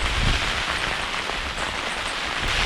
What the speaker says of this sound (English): the rain is just blowing in sideways